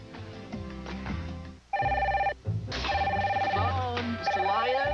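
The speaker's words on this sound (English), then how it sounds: "Phone." Telephone ringing in a TV commercial aired during a 1993 Phillies vs Braves baseball broadcast: repeated electronic trilling rings, loud and close, broken by short gaps over a background of music and sound effects.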